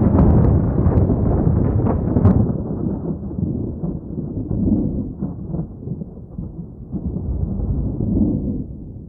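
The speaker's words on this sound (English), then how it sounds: "And we had just the thunder sound effect," A deep, sustained rumble of thunder used as a sound effect in a self-made music track, loud and rolling without a break for the whole stretch.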